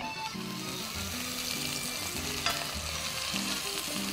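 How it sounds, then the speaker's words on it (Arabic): Onion and celery sizzle and fry in a pan, a steady close hiss with repeated scraping stirs and a sharp clink near the middle. There is no talking. "وهاخد تقليبه"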